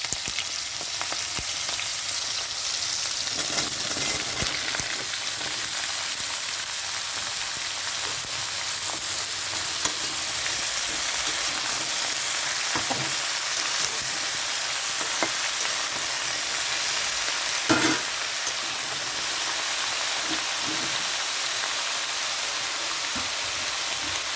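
Green chillies and chopped vegetables frying in a pan for a spinach ghonto, producing a loud, dense, continuous sizzle close by with occasional clatters and stirring scrapes, no talking.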